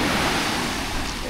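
Ocean surf rolling onto a beach at Dingalan, Aurora, a steady broadband wash of waves with some wind, continuous and fairly close, with no talk.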